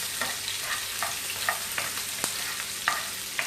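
Dried red chillies frying in hot oil for a Kerala-style roasted-coconut yam curry, stirred with a spoon: a steady close sizzle broken by regular scraping stirs against the pan, with no voices.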